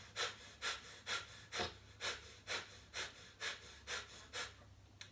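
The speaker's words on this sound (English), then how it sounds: "60 degrees and breath of fire." Kundalini yoga breath of fire: quick, rhythmic, forceful nasal breaths, close and fairly soft, about two per second in a steady pulse with no talking.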